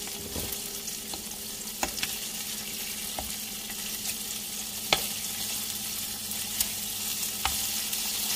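A pork and beef burger patty pan-frying over low heat, a steady close sizzle with occasional sharp pops and light scrapes at irregular intervals.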